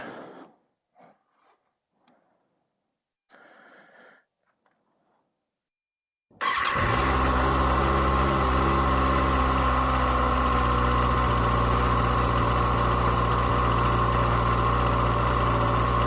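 A 2024 Kawasaki ZX6R 40th Anniversary Edition motorcycle fires up from cold after a few faint clicks, then settles into a loud, steady, even idle that runs unbroken to the end.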